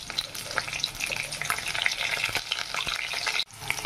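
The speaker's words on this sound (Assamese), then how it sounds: "ইয়াতে কণীকেইটা ভাজিবৰ কাৰণে দি দিলোঁ তেলত আৰু নিমখ দি দিছোঁ" Eggs frying in hot oil with salt and turmeric, a strong continuous crackling sizzle with sputtering pops and stirring noises up close, a brief dip near the end, no speech.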